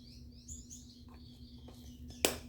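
Faint, sparse bird chirps from a bird relaxation recording play over a steady low hum, with one brief louder sound near the end.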